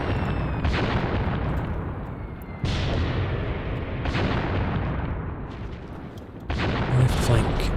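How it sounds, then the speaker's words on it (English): Mortar rounds in the video game Graviteam Tactics land as a string of heavy booms, roughly three or four impacts each trailing a long rumbling decay, loud and close. "I think we'll get some more mortar fire."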